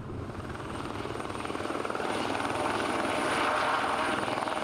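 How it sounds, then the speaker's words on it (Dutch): A helicopter thunders close by with steady, rapid rotor chopping and a broad engine roar that grows slightly louder over a few seconds, with no talking. "Het gaat met de helikopter."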